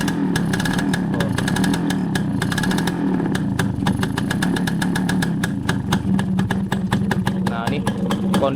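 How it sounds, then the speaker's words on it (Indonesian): A Suzuki A100 two-stroke motorcycle engine idles steadily after its first start since being refitted into the frame, a loud continuous rapid putter with slight unevenness. "ini kondisi dari Suzuki A100 saya perdana nyala setelah naik ke rangka mesinnya"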